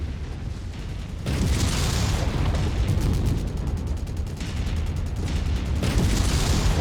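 Missile explosions in MechWarrior 5 during a mech battle, a sustained roar of blasts and rumbling booms that swells and keeps going, loud and dense, with no voices over it.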